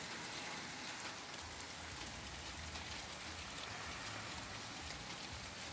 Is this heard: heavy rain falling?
yes